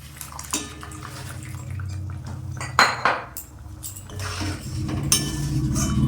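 Metal spoon scraping and clinking against a cooking pot while Bengali tangra fish curry is stirred, close and fairly loud, with irregular knocks and a few sharp clanks and no talk.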